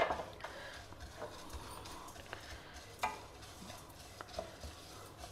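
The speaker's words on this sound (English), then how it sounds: "Dry roast it over a very low flame." Red poha dry roasting in a pan over a very low flame, giving soft scraping stirs and light crackly ticks that come irregularly at a low level, with no talk.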